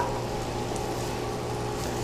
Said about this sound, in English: So just take your cup of onions and dump them in here, and then your celery,